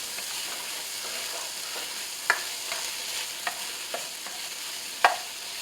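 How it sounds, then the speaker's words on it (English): Spoon stirring a Bahamian stew fish pot with bay leaves, palmetto seeds and tomato paste over a steady sizzle, with a few scattered scraping clinks against the pot. "So let's just give it a little stir again."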